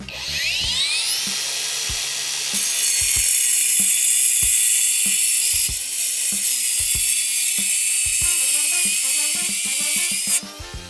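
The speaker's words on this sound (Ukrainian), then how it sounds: "Диск ріже супер швидко і супер без напряга." A cordless angle grinder cuts at full depth with a Dnipro-M Grand disc: a motor spins up to a loud, steady high-pitched whine that holds for about ten seconds, with small clicks underneath, then cuts off near the end.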